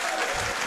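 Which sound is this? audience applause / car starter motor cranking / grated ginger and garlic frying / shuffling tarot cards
audience applause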